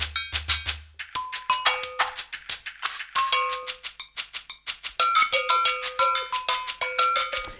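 Drum pattern variations from Halion Sonic 3 software instruments play as a fast, crisp electronic groove of sharp percussive hits with cowbell-like pitched tones, steady and upfront with no voices.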